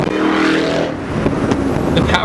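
A supercharged 2007 Shelby GT500 engine accelerates hard, a loud, close roar rising in pitch with supercharger whine, under a voice talking over it.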